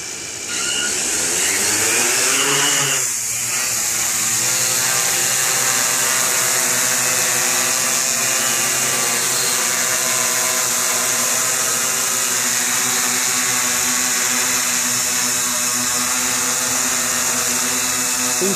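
Tarot 680 Hybrid Pro multirotor drone spinning up and hovering, its motors rising to a loud, steady whine with layered buzzing tones that stays constant and close throughout.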